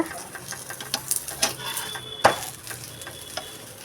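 Aloo paratha frying in oil on a pan, with a soft steady sizzle and a few scraping stirs and clinks, one sharper tap near the middle, close and without speech.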